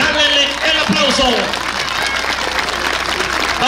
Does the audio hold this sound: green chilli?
no